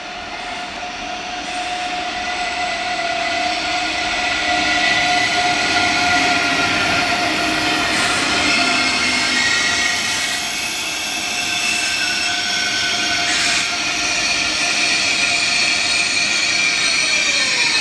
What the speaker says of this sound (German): ein lokbespannter RE fährt ein auf der